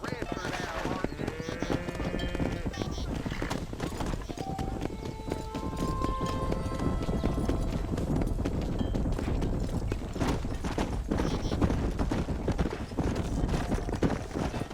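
Horse hooves clip-clop steadily in Red Dead Redemption as a rider herds cattle out to pasture on a ranch, with a continuous close trotting rhythm under game ambience and faint background voices.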